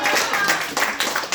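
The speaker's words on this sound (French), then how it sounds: "Est-ce que vous pouvez vous applaudir?" An audience claps in a dense, steady patter of many hands that carries through the whole moment at close range, with a voice briefly present.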